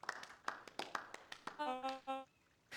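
Sparse, uneven clapping from a small audience in the video game Beacon Pines, a handful of separate claps, then a short run of tonal game music and one final clap.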